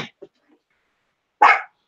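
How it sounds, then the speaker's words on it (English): Dogs bark nearby, a couple of short yips followed by one loud, close bark, with silence in between. "the dogs next door, behind us, start to bark, and our dogs think they need to respond"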